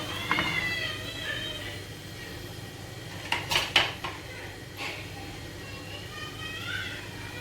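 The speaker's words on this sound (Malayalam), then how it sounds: "ഇനി നമ്മുടെ പാലിവിടെ തിളയ്ക്കാനായിട്ട് തുടങ്ങുന്നുണ്ട്. ഒന്ന് ഇളക്കി കൊടുക്കാം." A ladle stirring milk coming to a boil in a pot for semiya payasam, with a few bright metallic clinks and scrapes against the pot amid a low steady background.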